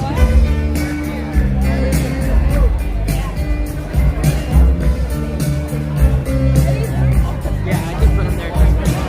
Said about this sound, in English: There's a whole crowd here.